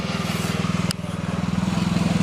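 An old tractor that had sat unused for about twenty years runs with a steady low, pulsing engine throb, loud and continuous throughout, with one brief sharp click partway through.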